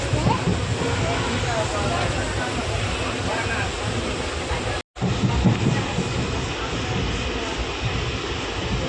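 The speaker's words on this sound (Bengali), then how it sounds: "চলে গেল এই ট্রেন।" A train passes at a station near Siliguri with a loud, continuous rumble and clatter that lasts the whole time, briefly dropping out for a moment midway.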